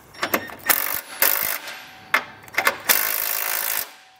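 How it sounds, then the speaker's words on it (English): Ratchet with a 3/4 inch socket snugging bolts on a Blue Ox base plate on a 2022 Jeep, heard as several short bursts of rapid clicking separated by brief pauses, close and fairly loud, with no talk. "I'll come back with a 3/4 inch socket and just snug these up a little bit"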